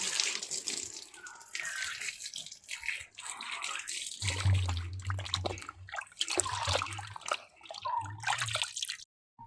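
Tap water runs and splashes as something is washed under it during purple yam dessert preparation in a Jaffna home kitchen. The water comes in uneven gushes and trickles, with a low rumble of flow partway through.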